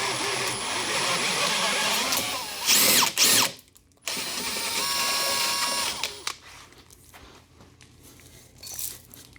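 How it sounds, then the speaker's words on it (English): A power drill with a Star-M countersink bit whirs steadily as it bores into material, pausing briefly mid-way, then winds down to quieter mechanical clicks near the end. "their bits drill such perfect holes"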